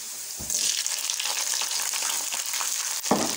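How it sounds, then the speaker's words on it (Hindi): Tomato dropped into browned onions frying in oil for spiced rice gives a close, steady sizzle with popping spatters, which flares at the start and again near the end. "अब मैं इसमें डालूंगी एक अदद टमाटर।"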